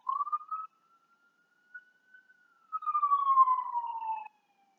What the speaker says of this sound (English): I have a siren going by